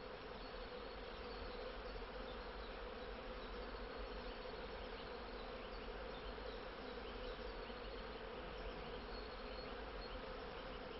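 Dense, steady buzzing of many bees, continuous and close, with no voices.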